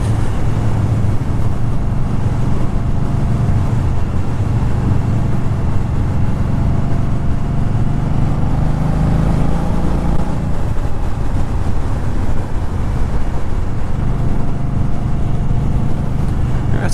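A 2018 Indian Scout Bobber ABS motorcycle being ridden, with a steady low engine drone and heavy wind rush running without pause throughout.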